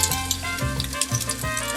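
Onions drop into a couple of tablespoons of heated cooking oil in a pan and sizzle steadily, with a few stirring knocks and scrapes punctuating the close, continuous crackle.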